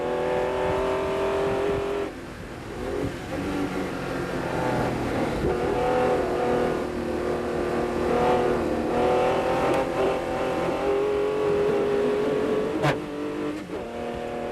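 A British sports racing car's engine downshifts to third gear for Stowe corner, a loud, close, rasping roar with a sharp rev change and sustained revving as it drives through the bend.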